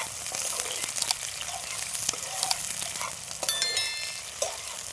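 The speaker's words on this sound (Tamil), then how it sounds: "நல்லா பச்சை வாசனை போகிற வரைக்கும் நல்லா வதக்கிக்கலாம்." Big onions sautéing in a pan for mutton masala, a close steady sizzle with light crackles and occasional stirring scrapes and clinks.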